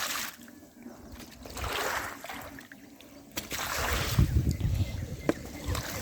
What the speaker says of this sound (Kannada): ಎಷ್ಟೊಂದು ನೀರಿದೆ. ಈಗ ನಾನು ಫಾಲ್ಸ್ ಥರ ಬೀಳಿಸ್ತೀನಿ.